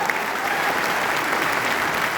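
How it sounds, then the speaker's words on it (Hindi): An audience applauds at an event, a dense and steady wash of many hands clapping together, loud and continuous throughout with no voices standing out. "जोरदार ताली बजाइए"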